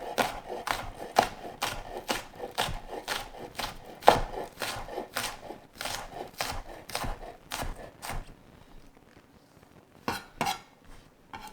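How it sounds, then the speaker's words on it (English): A knife chops scallions on a cutting board, striking in a quick, steady run of sharp close taps for about eight seconds. After a short pause, a few more chops follow. "knuckles in and chop down"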